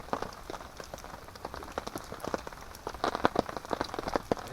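Rain patters at a remote wilderness campsite, dense irregular drops tapping sharply on a nearby surface, rising and falling in bursts with no talking.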